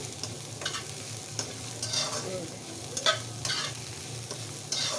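Gourd-skin and potato fry stirred in a pan, a continuous close sizzle with periodic scraping strokes of the spatula every second or so.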